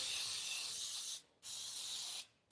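Cooking spray hisses into a mini cheesecake pan in two long, steady bursts with a short pause between them, close and fairly quiet, with no voices.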